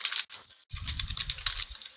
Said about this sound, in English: I was gonna guess it, but I'm slow at typing today